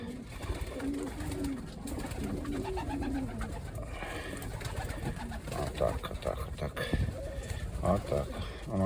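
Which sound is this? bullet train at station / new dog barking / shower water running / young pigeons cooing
young pigeons cooing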